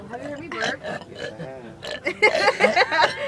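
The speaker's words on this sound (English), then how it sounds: "have you heard me burp?" Loud burps in a burping contest, several long croaking belches in a row with laughter and voices around them.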